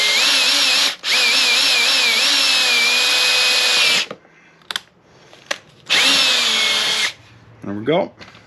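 Power drill boring a hole while fitting Mud Busters mud flaps on a Can-Am Maverick Sport Max, two loud, close bursts of steady whining with brief pauses and a short rev, followed by quieter handling noises and talking.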